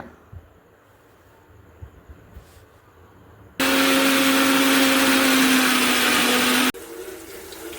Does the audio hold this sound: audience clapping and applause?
no